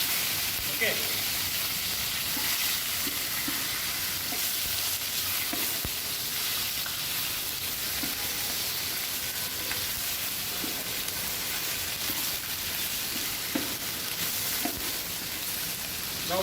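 Chicken bones browning in a pan for galantine de poulet, a steady loud hiss of frying that runs throughout, with scattered faint taps and pops.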